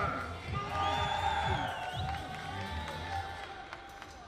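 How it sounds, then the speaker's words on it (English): Russian women's compound archery team cheering on their teammates during a gold medal team final, a crowd of voices shouting and whooping steadily at moderate distance, mixed with talk. "So you can hear in the background the Russian team cheering their team on, willing them to get those tens"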